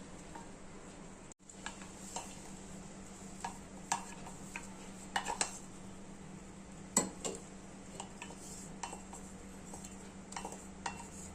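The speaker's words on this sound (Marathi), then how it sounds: "छान मिक्स करून घेते आणि हे दुधामध्ये टाकायचं आहे" A spoon stirs khoa into milk for kulfi in a pot, giving close, irregular clinks and scrapes against metal over a low steady hum, with no talking.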